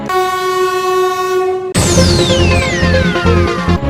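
A special passenger train at Asansol station sounds a long sustained horn, then wheel and rail noise rises with screeching, sliding metallic squeals as the cars roll in loudly and close by.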